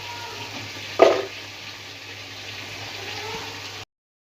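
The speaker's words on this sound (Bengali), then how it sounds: "এদিকে ইলিশ মাছগুলো ভাজা হচ্ছে" Hilsa fish frying in a pan, a steady moderate sizzle with one sharper spitting burst near the start before settling into an even crackle, no voices.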